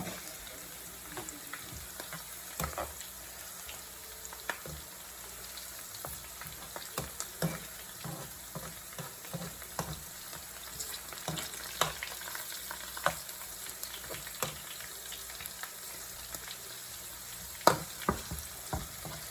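Red and green chillies, curry leaves and onion fry in oil with a constant soft crackling sizzle, broken by frequent sharp pops and the scrape of stirring throughout, with no talking.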